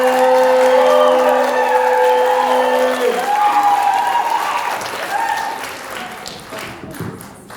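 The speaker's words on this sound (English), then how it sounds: "So please hear it for your next comic. Let's hear it for Kyle McAfee" A comedy club crowd at the Roxy Theater applauds and cheers loudly for a comedian, the clapping dense and steady at first and then slowly thinning and fading, with some whoops and voices mixed in.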